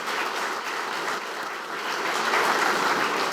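A crowd applauds at a military change of command ceremony at Fort Belvoir, dense steady clapping that holds at an even level for a few seconds and swells slightly near the end.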